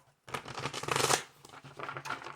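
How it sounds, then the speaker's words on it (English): A deck of tarot cards being shuffled up close, one quick riffle burst followed by softer flicking and sliding of the cards. "Okay, 2 more shuffles."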